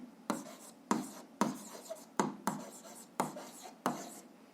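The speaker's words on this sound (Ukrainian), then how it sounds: "Ну що ж, записуємо відповідь, пишемо відповідь" Pen scratching on paper while an answer is written down for a physics exercise, seven quick, distinct strokes in an irregular rhythm, close and quiet, with no talking.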